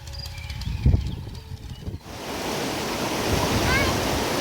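River water rushes and splashes steadily near a village in Chiplun, Konkan, swelling into a loud continuous wash after a quieter opening with faint birdsong and a thud.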